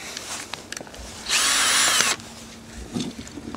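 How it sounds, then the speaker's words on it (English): A power drill reams out a pilot hole in a plastic spray cap, one steady loud whir lasting under a second, set between quieter handling noises. "So now I got my pilot hole reamed out."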